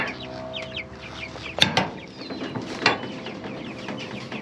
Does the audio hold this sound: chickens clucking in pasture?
yes